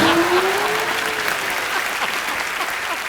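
An audience at a comedy show breaks into steady clapping that goes on for a few seconds, with a brief voice at the start.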